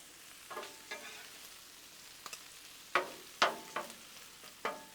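Shrimp and sausage frying on a hot Blackstone griddle under a low, constant sizzle, with repeated sharp scraping and stirring strokes from a spatula at an uneven pace.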